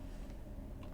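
A computer keyboard being typed on at a desk, with a few quick, light keystrokes clicking close by over a steady background hum.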